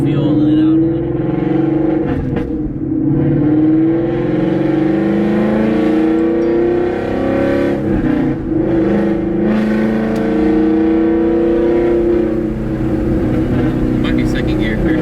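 700 HP Procharged V8 Mustang GT pulling in third gear, a loud, sustained engine roar with rising and falling pitch sweeps as revs climb, dipping briefly between pulls.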